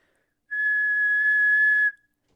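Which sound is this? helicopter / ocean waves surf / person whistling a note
person whistling a note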